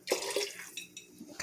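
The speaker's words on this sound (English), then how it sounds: "I'm going to add just a little bit more water to that." Water is poured into a pot of soaked red beans, with splashing and dripping in short bursts and a few separate drops following, heard close and without talk.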